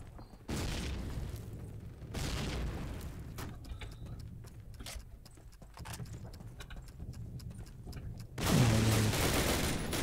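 Heavy gunfire and booming explosions in Call of Duty 4 come in loud bursts: a big gun fires in blasts separated by quieter stretches, ending in a long, sustained roar of fire.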